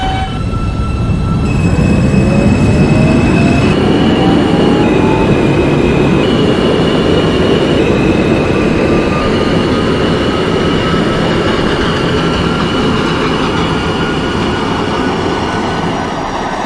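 A New York subway R160A Alstom C local train in the OpenBVE simulator rumbles along steadily, with a rising electric motor whine and sustained tonal hums over the continuous rolling noise of the cars.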